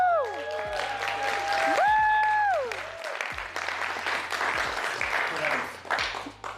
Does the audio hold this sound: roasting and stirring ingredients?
no